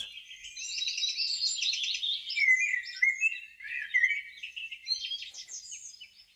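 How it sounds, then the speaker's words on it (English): Several birds sing and chirp in quick, overlapping high-pitched phrases near a waterfall where the water meets a dark river, the calls bright and fairly close, continuing steadily with no water roar evident underneath. "The waterfall meets a rich dark river, and again you listen to the birds."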